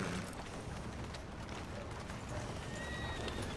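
In the video game Red Dead Redemption 2, a horse gallops with dense, rapid hoof clatter and snorting, heard up close beneath a steady wash of game ambience.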